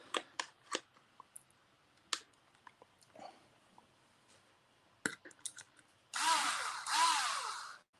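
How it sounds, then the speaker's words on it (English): Screws are driven into the center brace of a model kit, heard as scattered small clicks and taps of handling and then two close, whirring bursts of a power driver near the end. "I'm going to put the screws for the center brace in first."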